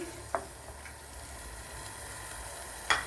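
Fenugreek seeds, small pieces of ginger and garlic sizzling in hot coconut oil for a pumpkin and green mango curry, a faint steady hiss with a couple of brief sharp crackles standing out.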